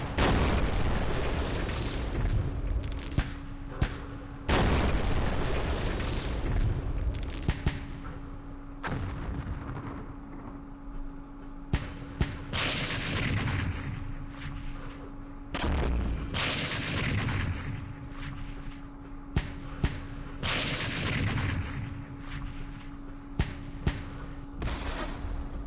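Artillery fire booms in the Campaign Series Vietnam war game during a Dien Bien Phu battle, heavy blasts recurring every few seconds over a continuous rumbling battlefield bed, with no talk.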